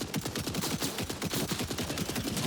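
Rapid sustained automatic fire from a Jakobs assault rifle in Borderlands 4, a dense, loud stream of evenly spaced shots with no pauses across the whole burst.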